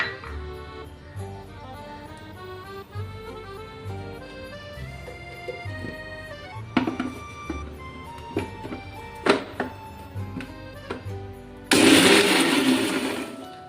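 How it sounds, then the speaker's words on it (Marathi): A kitchen mixer grinder blending roasted coconut, cumin, sesame seeds and garlic, run in short on-off bursts with whirring motor pulses, clattering jolts, and a loud full grind near the end. "चालू बंद करत मिक्सर फिरवायचंय."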